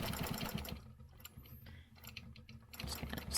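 A sewing machine stitches a curved echo line along a ruler on a quilt, running in fast steady bursts with a short slower stretch in the middle, close and alone.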